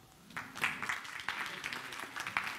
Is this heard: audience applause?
yes